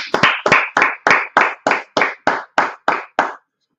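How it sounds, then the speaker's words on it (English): A small group claps hands together in about eleven sharp, evenly spaced beats that ring out loud and close, then stop, leaving silence and no talk. "Let's clap it up."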